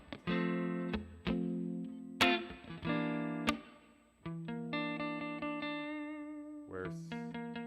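Electric guitar strums a sequence of sustained chords, each ringing out before the next change, with a bright, effected tone and no voices.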